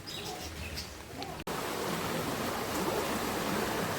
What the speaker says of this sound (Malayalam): തോടൊക്കെ നിറഞ്ഞിങ്ങനെ വെള്ളം ഒഴുകി പൊക്കോണ്ടിരിക്കുകയാണ്